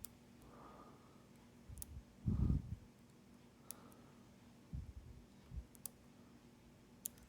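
Faint, sparse clicks from a lock pin setting while a Sargent Keso lock is picked, scattered single ticks over quiet background with a soft breath or handling rustle in the middle.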